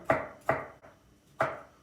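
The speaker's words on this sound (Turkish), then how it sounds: "Bir tane de yeni soğandan domates doğrayayım." Three sharp knife chops through a tomato on a cutting board, evenly spaced with one softer tap between, close and clear with no talking.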